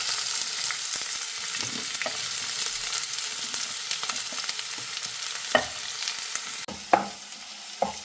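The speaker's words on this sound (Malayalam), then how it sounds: "ഇതിനായിട്ട് ചട്ടിയിൽ ഇപ്പോൾ കുറച്ച് ഓയിൽ ഒഴിച്ച് കൊടുത്തു. ഇനി അതിലേക്ക് വല്ലുള്ളി ഇട്ട് കൊടുക്കുകയാണ്." Shallots crackle and sizzle in oil in a pan, a moderate, steady frying hiss broken by a few sharper clinks and scrapes of a spoon toward the end.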